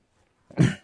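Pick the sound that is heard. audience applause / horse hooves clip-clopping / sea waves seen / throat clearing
throat clearing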